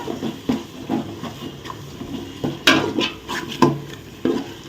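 A spoon stirring thick masala for egg biryani in a pan, heard as repeated scraping and clinking strokes at a steady rhythm, close by, over a faint background hiss.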